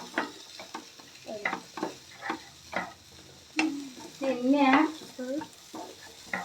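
Beans fry in a pan while a spoon scrapes and pushes them around in irregular strokes over a soft sizzle, with a short squeaky tonal patch partway through.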